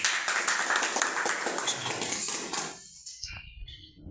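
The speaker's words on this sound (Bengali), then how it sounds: "তালি দিই" Applause for the winners of a pigeon race: a patter of many hands clapping for a few seconds, then fading out abruptly into a quieter gap with faint low noises.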